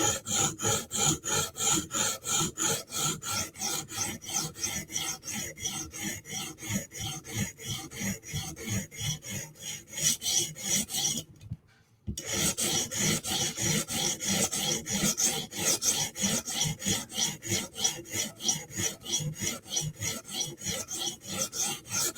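A Spyderco Sage knife in REX 121 steel has its bevel hand-sharpened, making steady, evenly spaced rasping strokes close up with no talking, broken by a short pause midway.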